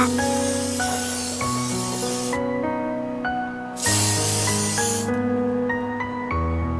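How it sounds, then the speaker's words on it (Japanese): Tamiya TS51 Racing Blue, a dark metallic blue, hisses from a spray can onto the body of a small 3D-printed Honda Prelude-style pull-back toy car, in repeated bursts under steady background music. "ボディ色は、タミヤの缶スプレーの TS51 番レーシングブルーを選択した。"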